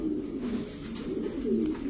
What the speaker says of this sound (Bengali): তিনটা রেস করা বিআরপিএফসি ক্লাবের ব্ল্যাক চেকার রেসার একটা মাদি কবুতর